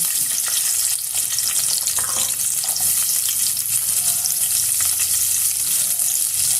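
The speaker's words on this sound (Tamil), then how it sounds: "எல்லாம் சேர்த்து நல்லா வதக்கிக்கணும்" Loud, steady sizzling of chopped onion, green chillies, garlic and ginger frying in hot oil, with occasional stirring scrapes, close by and continuous.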